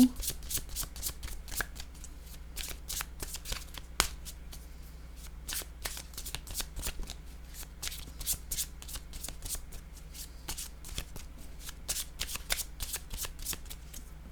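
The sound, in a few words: handling and drawing playing cards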